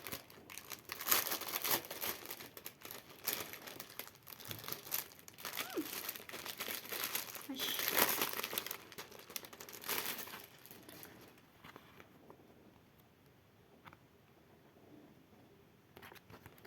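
Crinkly plastic packaging of window stickers is handled and rustled up close for several seconds, with intermittent crackles, then settles to quieter handling.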